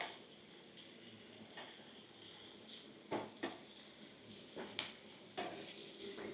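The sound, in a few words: stirring vegetables and cashews in a pan for fried rice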